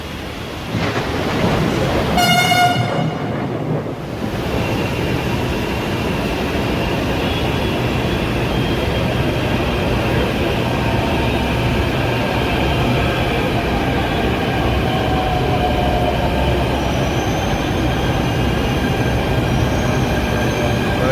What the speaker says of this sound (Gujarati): તો આપણી મેટ્રો આવે છે જો આવી ગઈ